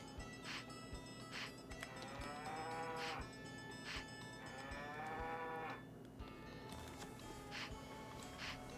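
Cattle in the Harvest Moon 64 video game moo in a few drawn-out, faint calls over a steady background hum, with no talk.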